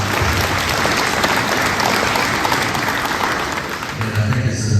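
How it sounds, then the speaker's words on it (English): A crowd applauds steadily at a community meeting at the U.C. Fairplex, dense clapping that holds for several seconds before easing slightly, then a brief murmur of voices. "Let's give them a round of applause"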